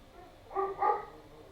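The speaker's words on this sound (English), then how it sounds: "I don't know what the dog is barking at" A dog barks twice in quick succession somewhere in the background of a home kitchen, the muffled barks moderately faint and distant.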